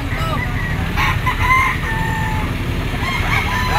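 A rooster crows once, loud and close, over a busy background of clucking fowl and general outdoor noise at a poultry auction market in Lipa.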